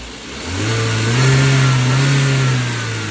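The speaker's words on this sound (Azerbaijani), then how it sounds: "Qaz ver bir iki dənə." A car engine, just after its engine bay was pressure-washed, revs up from idle, holds a steady raised roar for about two seconds, then eases back down, loud and close.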